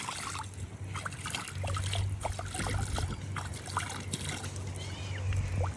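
Water runs from an outlet at a traditional village mud house, trickling and splashing close by in an uneven stream, with faint voices in the background.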